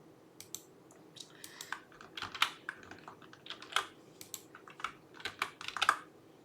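Computer keyboard typing in a steady run of quick, close keystroke clicks with irregular bursts and pauses, no voices, recorded quietly indoors.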